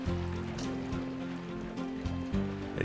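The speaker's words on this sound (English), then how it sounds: "Let's see how far this water goes." Flowing water in Minecraft, a steady trickling, rain-like patter running under a low sustained hum, moderately quiet and close, with a few soft thumps.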